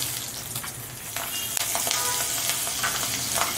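Nigella seeds and green chilies hit hot oil for a Bengali parshe fish curry, letting off a close, constant crackling sizzle with a faint stirring scrape.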